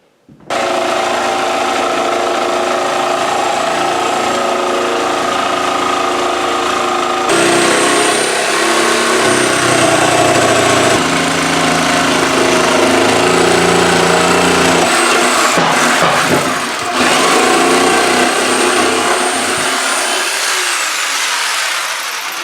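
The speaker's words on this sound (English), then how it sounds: "I got a jigsaw to cut it" Power jigsaw cutting through metal to open a traced hole for a thimble fitting, a loud continuous buzzing run lasting about twenty seconds with shifts in tone as the blade moves, then winding down at the end.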